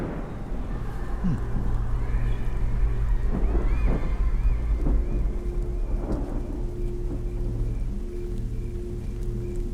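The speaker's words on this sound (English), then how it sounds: "Oh, I hope the rain won't get worse." Rain and rolling thunder in the video game Silence Channel, with steady loud rainfall and low thunder rumbles swelling around the middle.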